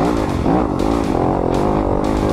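A 2020 Yamaha YZ250FX dirt bike engine runs steadily and loud at close range, its tone rising and falling slightly with throttle, with no other sounds over it.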